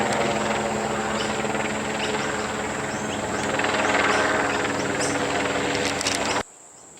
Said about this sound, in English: Probably a news helicopter for the fireworks.